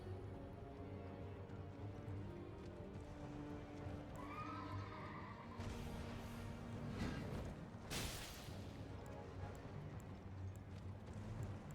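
Horse in the video game Elden Ring, hooves clip-clopping under a shrill neigh, followed by a loud thud and crash, all at moderate distance with no talk.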